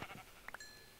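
A sheep bleating in Minecraft: a quick pair of short, nasal bleats, clear and fairly close. Game ambience and a faint thump are heard just before them. No one speaks.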